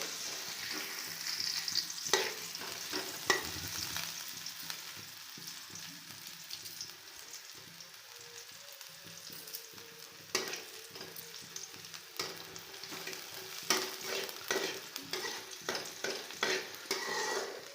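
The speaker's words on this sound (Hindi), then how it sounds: "बर्तमान देख पियाज अल्प अल्प टे कषि आसला" Onions fry in hot oil in a home kitchen pan, a soft continuous sizzle with intermittent scraping and clinking of a stirring spoon, fairly quiet and close.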